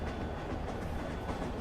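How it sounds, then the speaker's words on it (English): A train rumbles through a scene in the video game Resident Evil 2 Remake, a steady low, dense roll with faint clacking texture that carries evenly throughout, with no voices over it. "Nice that they actually implemented a train."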